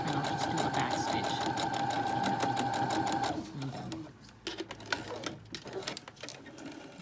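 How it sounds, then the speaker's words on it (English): A sewing machine runs a back stitch at the marked circle cut, a steady close whir with a bright mechanical tone for about three seconds, then stops, leaving handling noises and light clatter. "I'll just do a back stitch."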